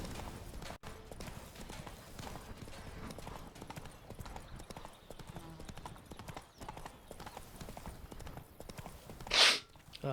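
In The Witcher 3 video game, Roach the horse moves along with rapid rhythmic hoof clip-clops, mid-level and steady throughout, with a brief louder burst near the end.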